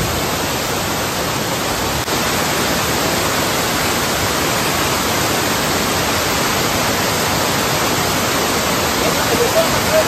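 Water roars steadily over a swollen monsoon waterfall at Malanggad, a loud, unbroken broadband rush with no pauses, filling the whole scene.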